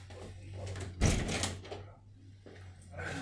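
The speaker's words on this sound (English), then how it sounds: "I'm just going to shut this door." A door inside a vehicle with a grey water tank is pushed shut with one dull thump, heard faintly over a steady low background hum.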